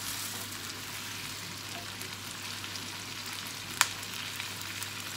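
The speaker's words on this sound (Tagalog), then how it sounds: "Haluin lang natin para pantay yung luto niya." Chicken with garlic and oyster sauce frying in a pan: a steady close sizzle while it is stirred, with one sharp utensil knock partway through.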